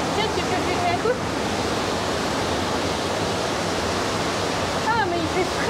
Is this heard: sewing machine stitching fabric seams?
no